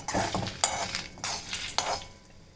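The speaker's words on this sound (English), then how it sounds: "Keep it on low and roast it so that it doesn't burn and it gets a nice even color." A spoon scrapes and stirs ingredients for kadala koottu, a pumpkin, peanut and chana dish, as they roast in a little oil in a pan on low heat. Four or five distinct close strokes are heard over a faint sizzle, with no voices.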